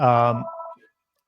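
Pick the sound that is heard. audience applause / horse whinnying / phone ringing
phone ringing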